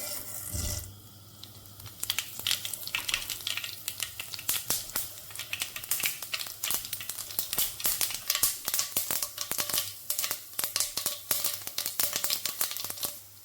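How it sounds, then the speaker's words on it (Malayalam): Rapid, irregular crackling and popping of mustard seeds in hot oil, sharp little bursts scattered throughout over a faint steady hiss. "കടുക് പൊട്ടിയിട്ടുണ്ട്"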